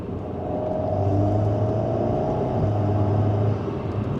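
A deep, steady Alpine A110 GT sports car engine rumble idles with a low throaty drone, close and continuous without any talking.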